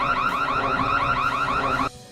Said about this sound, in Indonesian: Suara berisik alarm menjadi kesempatan buat Rocky menyelamatkan diri